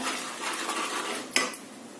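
A spice masala for wheat kurmura chivada is stirred in a pan, with steady scraping and soft rustling, a few metal clinks of a spoon against the pan, and one sharp knock near the end.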